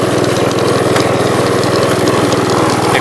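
Gravely commercial tractor engine idling steadily with a fast, even mechanical pulse, loud and close, while the high-low clutch fails to snap into gear.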